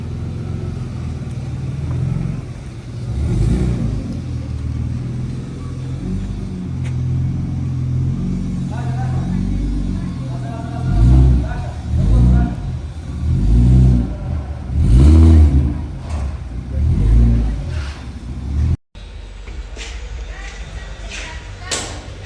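Toyota JZX with a 2JZ engine on a dyno, idling then blipped in repeated throaty revs that rise and fall in bursts, loud and close, with people talking over it and a brief cut near the end.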